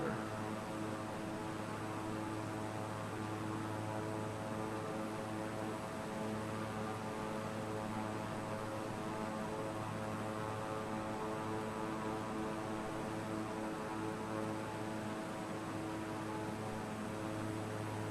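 Steady, faint drone of an airplane in Flight Simulator, an unbroken engine hum with tonal harmonics and airy noise, constant throughout with no talk.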